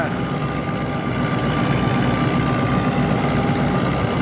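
A Fiat 640 85 hp tractor engine idles with a steady low rumble and a faint whining tone while driving a chopper machine through its PTO, running continuously and fairly loud throughout.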